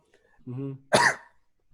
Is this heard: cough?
yes